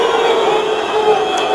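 An unruly ringside crowd at a kickboxing fight, a loud, dense roar that holds steady for a brief moment with no clear break.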